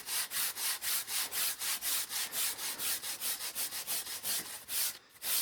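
EVA foam edge is sanded by hand, with no rotary tool, producing a fast, even series of close, loud scratchy strokes that continue steadily with a brief break near the end.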